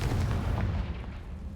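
A Confringo explosion spell in a Hogwarts video game sets off a heavy, rumbling boom that fills the start and gradually rolls off, loud and low, with no voices.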